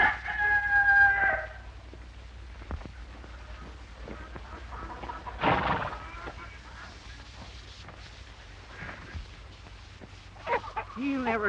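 Rooster crowing and chickens clucking on a farm, a fowl call at the start and further squawks and clucks scattered through the scene, heard amid voices talking.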